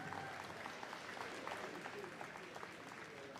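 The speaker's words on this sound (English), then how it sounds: "Give them a big round of applause," An audience applauds the crossbreed dog competitors at the Crufts 2022 Scruffts semi-final in a large hall. The clapping is steady and fairly faint, with talk over it.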